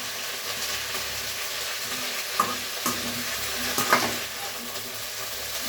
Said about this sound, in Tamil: இந்த 3 பிடி கருவேப்பிலையை நல்லா இப்படி எண்ணெயில் வதக்கணும்.